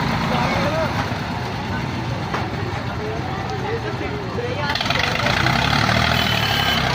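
An Eicher tractor hauling a sugarcane trolley strains while stuck, its engine droning loud and steady throughout and revving harder near the end, with people talking over it.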